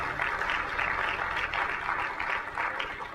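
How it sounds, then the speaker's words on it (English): A conference audience applauds in a steady, dense burst of clapping that fills the room for a few seconds, heard at moderate distance. "Give him a round of applause."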